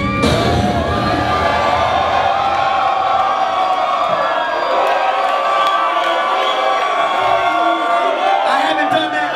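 Crowd at a freestyle rap show cheering and whooping loudly and continuously, with shouted voices mixed into the roar throughout.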